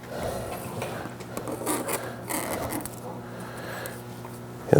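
Backing tape peeled off Bizon body side molding during installation: soft close ripping and rubbing noises in uneven bursts, fairly quiet, ending in a sudden louder knock.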